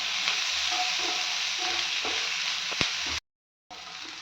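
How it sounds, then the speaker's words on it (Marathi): Capsicum sautéing in a pan with a steady hiss of frying, close by, broken by soft scrapes and taps of stirring, with a brief dropout near the end. "ढबू मिरची पण परतून घ्यायची आता आणि असं हलवत राहायचं"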